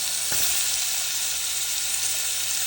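Chopped tomato, onion and ginger sizzle in a little olive oil, a loud, steady hiss of frying from start to finish, with a brief clatter near the beginning and no voices.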